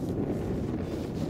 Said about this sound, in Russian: Порывы ветра.